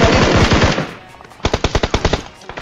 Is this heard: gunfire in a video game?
yes